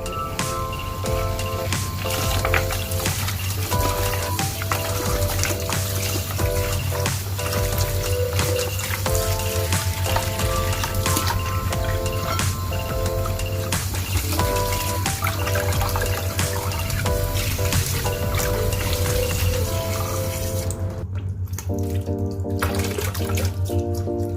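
Tap water runs steadily into a sink as soaked green vegetables are rinsed underneath, a loud, continuous splashing stream that briefly thins near the end before resuming.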